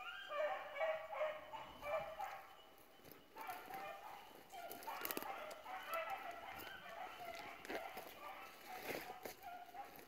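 Four hunting dogs on the trail after a blooded-up quarry, barking and baying at a distance in open country, faint and scattered, mixed with rustling and other outdoor noise.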